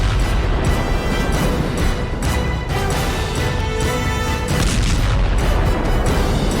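Heavy booming blasts at an oil depot rumble in a dense, continuous roar with repeated sharp impacts, loud and close.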